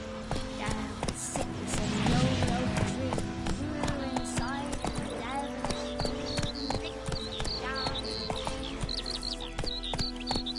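In The Witcher video game, the horse Roach gallops in a steady, rapid clip-clop of hooves, with a voice talking over the hoofbeats.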